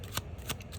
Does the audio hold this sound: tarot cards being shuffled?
yes